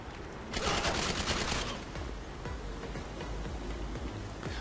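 Rapid automatic gunfire in GTA 5 Online aimed at a vehicle's driver during a casino heist mission, a loud dense burst of shots that drops into quieter scattered firing and background game noise.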